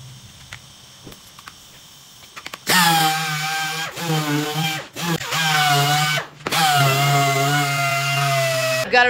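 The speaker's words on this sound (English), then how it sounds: "I always start off with the 80 grit sandpaper and then I finish sand with 180 grit." A power sander works over wooden picture frames with 80-grit and then 180-grit sandpaper. It starts after a few quiet seconds, then whines loud and steady with a strong tonal hum, breaking off briefly twice.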